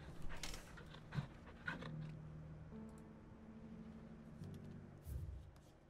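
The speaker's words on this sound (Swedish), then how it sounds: "vi klappar hunden när vi ändå står här" A dog pants steadily while being petted in Final Fantasy XVI, with soft breathy rhythmic puffs and a few faint whimpers at low volume.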